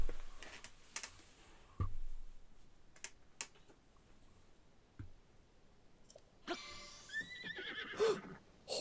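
Horse in The Legend of Zelda: Tears of the Kingdom gives a clear neigh and later whinnies, among sparse hoof clops and game sounds, with soft controller clicks and a little talk.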